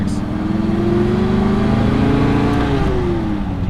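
A 1967 Buick Special cruises along Route 66 near Kingman. Its engine drones steadily up close with a rising and falling hum and rushing road noise, and no one speaks.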